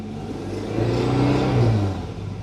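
A BMW GSA motorcycle engine with an intermittent electrical fault catching and running for a moment, a short rising rumble that swells then settles, close and fairly loud, with a loud generator running nearby.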